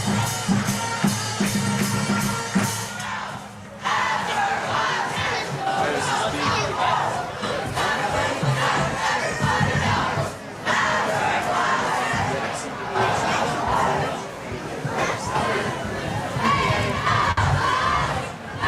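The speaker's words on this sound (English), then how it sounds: "Gives this Bucks crowd something to cheer about here." A high school football crowd roars and cheers after a touchdown, a loud, sustained wall of voices with shouting that swells and dips across the stretch, with no talk over it.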